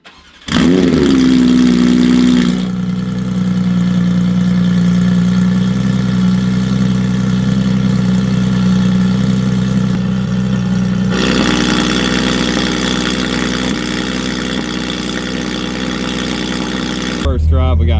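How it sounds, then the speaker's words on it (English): A Porsche 992 GT3 RS with a Soul exhaust and valve open starts and idles loudly and close up, then shifts to a higher steady drone, with a voice talking over it. "First drive, we got normal mode, valve open. Let's see what it sounds like."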